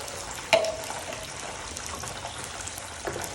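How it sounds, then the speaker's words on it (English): Water pours and splashes into a pan of cooked tomatoes, a steady rushing hiss with a sharp clink near the start. "so I'll add some water"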